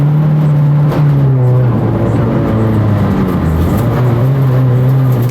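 A rally car carries speed over a crest into a hairpin, its engine loud and close with a strong droning note that dips and climbs again as the revs shift through the corner.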